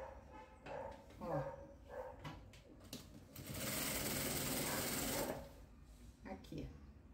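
A sewing machine stitches a patchwork bag close to the edge, a steady loud whirring burst of a couple of seconds in the middle, with scattered handling noises and faint dog barks and whimpers before and after.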